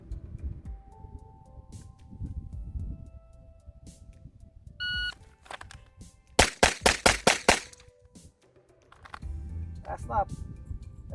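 A Walther PDP Pro full-size pistol fitted with a Herrington Arms compensator fires five or six loud, sharp shots in a quick, even string, after a shot-timer beep and some shuffling at an outdoor range.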